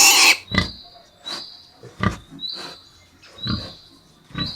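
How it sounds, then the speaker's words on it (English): Pig oinking and grunting up close in a rapid series of short snorting bursts, with a steady high tone running between them. "Pig"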